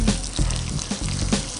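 Vegetables fry in a pan with a steady, close hiss and crackle that swells slightly in a few soft pulses, with no voices over it.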